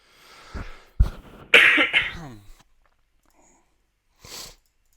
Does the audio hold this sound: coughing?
yes